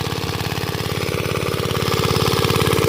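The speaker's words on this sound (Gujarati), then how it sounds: "તો જો હવે ફિટર મશીન આપણે શરૂ કરી દીધું" Engine of a filter machine pumping water to irrigate a maize field on a Gujarat farm, running in a steady loud rhythmic chug that holds even throughout with no talk over it.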